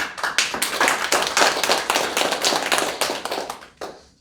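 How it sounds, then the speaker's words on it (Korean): An audience at a Korean community lecture in Washington DC claps loudly and steadily for about four seconds, then the clapping stops abruptly. "여러분이 주장하면 옳다고 박수해주세요."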